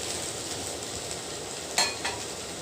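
Potatoes frying with spices in a pan give a steady, low sizzle throughout, with a couple of brief scrapes as the mixture is stirred, and no one talking.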